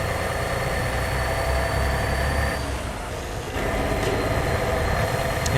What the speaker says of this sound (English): Hear the engine as it revs up.